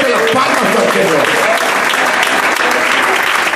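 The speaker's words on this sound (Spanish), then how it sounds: "dele fuerte las palmas al Señor" A church congregation claps loudly and steadily in a dense, continuous wash of applause that fills the space, with voices mixed underneath.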